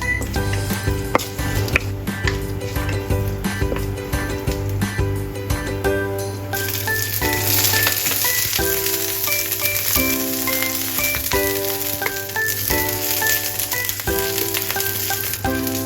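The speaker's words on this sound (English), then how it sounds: "Add cooking oil to the pan and saute the sliced ginger and cilantro roots until fragrant." Sliced ginger and cilantro roots sauté in cooking oil in a pan, giving a steady frying sizzle that thickens partway through, mixed with ongoing background music.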